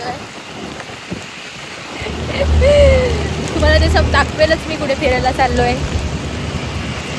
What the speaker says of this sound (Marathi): पाऊस पडतोय खूप जोरात